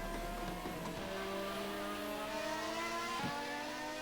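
Damaged F1 car engine in the F1 2021 racing game at Bahrain, a steady rough mechanical drone with stacked harmonic whine that sustains throughout, shifting pitch slightly near the end, with no talking.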